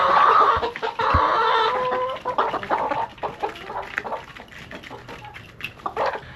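Point-of-lay hens on a small farm cluck and squawk close by, busy and loud at first, then trailing off into scattered softer clucks.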